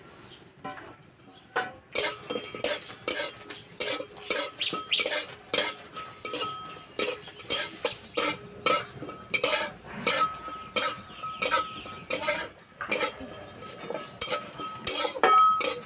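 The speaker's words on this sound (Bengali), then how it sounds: "এদিকে আমি গোটা মশলা ভেজে নেব, তার জন্য উনুনে কড়াই বসিয়ে দিয়েছি।" Whole cumin, coriander, fennel, dried chillies, cardamom, cinnamon and peppercorns dry-roasting in a wok, with a metal spoon scraping and clinking against the pan in quick repeated strokes after a short quiet start.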